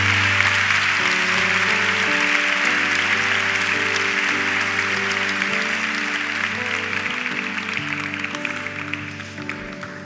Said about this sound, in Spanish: Den un aplauso al que vive.